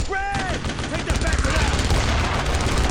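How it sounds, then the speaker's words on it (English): Mortar fire and gunfire crack and rumble in a World War II battle against German paratroopers in Brothers in Arms, with dense overlapping blasts and a brief voice-like tone at the start. "Mortars."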